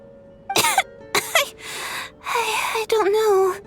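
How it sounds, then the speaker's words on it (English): Tonya, a character in the video game Genshin Impact, gives two sharp, close coughs, followed by strained, voiced breathy sounds and talk. "How long have you had that cough"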